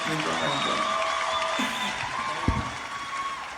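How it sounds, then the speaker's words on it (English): Audience at a Ron White stand-up comedy show cheering and clapping, a broad steady crowd roar that fades gradually, with scattered whoops over it. "They cheering."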